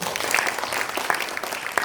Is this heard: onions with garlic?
no